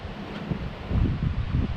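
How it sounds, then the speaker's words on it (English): Wind blows outdoors in gusty, rumbling bursts with low buffeting against the microphone, growing stronger through the second half. "Wind's blowing."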